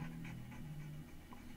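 A large dog pants steadily in rhythmic breaths, faint and low beneath a continuous background hum.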